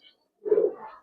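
A single short, low coo from a Giribaz or pangkhi fancy pigeon, heard alone and close after a brief quiet moment.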